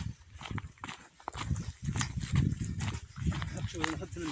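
A donkey walks along a village dirt road, its hooves clopping in an irregular rhythm close by under steady talk from several people.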